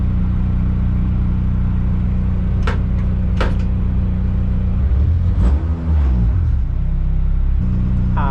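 A tuned 8th-generation Honda Civic Si race car running an autocross course, its steady engine drone loud and constant, with a few sharp transient clicks and a brief rev change near the middle.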